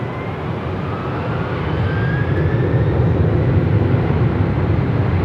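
A heavy airplane takes off from runway 24 left at Los Angeles International Airport, its engine roar building steadily louder over several seconds, with a thin whining tone drifting through the rumble and no talk.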